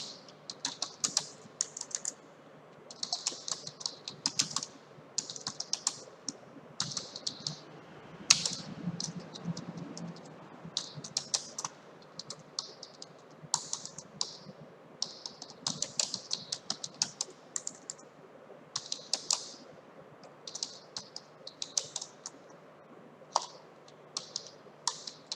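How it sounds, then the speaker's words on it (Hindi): Typing on a computer keyboard, bursts of quick, close key clicks and taps coming in uneven runs with short pauses between them and occasional louder keystrokes, steady throughout and with no talking. "तो सबसे पहले यहाँ पर कुछ टाइप करना शुरू कर देते हैं"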